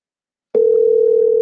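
A phone call placed during a Clubhouse audio chat begins with a sudden steady electronic tone that holds loud and unbroken after a moment of silence.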